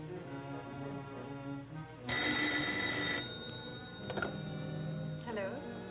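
An old 1940s telephone bell rings in bursts among background music and room sound, loud and close, with short pauses between rings.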